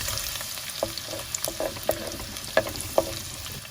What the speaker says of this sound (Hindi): तो इसको हमने अच्छी तरह से भून लेना है